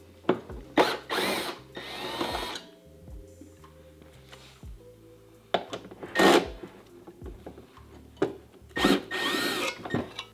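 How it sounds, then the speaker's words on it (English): A T30 Torx driver works screws loose on a Tesla Model 3 subwoofer amplifier, giving repeated short bursts of ratcheting and rasping close by, separated by quieter pauses and light clicks, with no talk. "To remove the amplifier from the subwoofer, you're going to need a T30 Torx"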